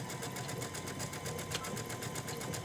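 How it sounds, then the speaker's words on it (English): A sewing machine stitches a short run forward and back to secure a fishing line hem on a skirt, giving a fast, steady mechanical whir with a rapid, even rhythm heard close and alone. "I'm just going to do a couple of stitches here, forward and backwards,"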